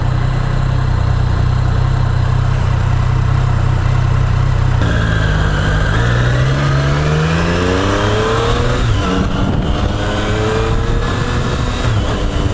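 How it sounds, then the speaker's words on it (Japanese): A Triumph Street Triple three-cylinder motorcycle engine runs loud and steady, then revs up in rising, falling sweeps through the second half, close and continuous. "音はね、やっぱいいっすよね、 トライアンフの3気筒。"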